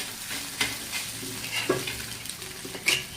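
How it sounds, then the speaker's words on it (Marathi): Eggs cracked into hot oil in a pan for Maharashtrian anda bhurji, giving a steady close sizzle with a few sharp scraping and tapping stirs against the pan, no talking. "हे बघा असं फोडून आपल्याला चांगलं याला मस्त फ्राय करून घ्यायचं"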